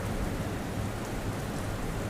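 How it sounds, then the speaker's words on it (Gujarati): Heavy monsoon rain pours down in Vapi, a steady, dense roar of falling water with no breaks, fairly loud and continuous throughout. "વાપીમાં ભારે વરસાદ વરસ્યો છે"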